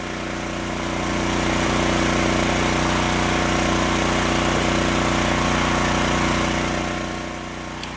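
Small engine running steadily behind a log splitter's hydraulic cylinder with an auto cycle valve, a constant mid-level drone that swells in and holds for several seconds before easing slightly at the end, no talk.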